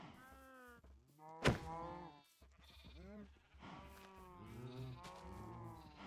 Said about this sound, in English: Oh, there are cows. I'll kill the cow that was outside the pen.